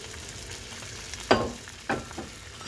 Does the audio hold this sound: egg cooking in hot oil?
yes